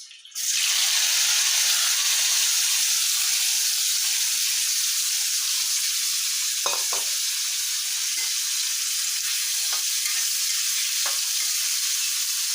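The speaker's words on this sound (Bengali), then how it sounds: "তেলটা গরম হয়ে এসেছে এখন পেঁয়াজ মরিচ" Onions and chilies hit hot oil with a sudden loud sizzle, then a dense, steady, hissing fry continues close up, broken by a few faint knocks of stirring.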